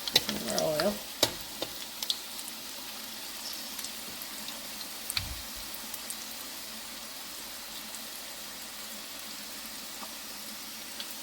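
Jalebi frying in oil gives a faint, steady sizzle and light bubbling throughout, with a few louder clatters and a utensil knock near the start, heard close up.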